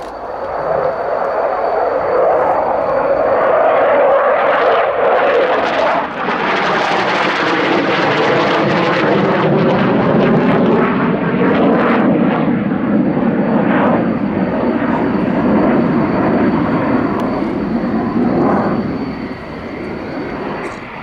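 A McDonnell Douglas Phantom jet roars through a flying display at the Royal International Air Tattoo 2015, a loud, sustained engine rumble that swells and shifts in pitch as it passes, with no voices.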